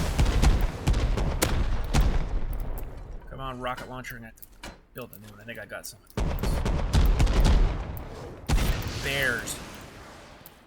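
Rocket launcher blasts in the survival game Rust: several loud, booming explosions spread across the clip, heavy low-end thumps between stretches of talk, with a voice speaking over and between the shots.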